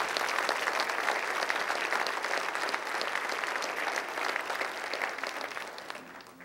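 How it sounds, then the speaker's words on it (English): A roomful of people claps for uniformed police officers standing at a city address, a steady dense ovation that holds for several seconds and then begins to thin out. "Let's give them the deserved round of applause they deserve."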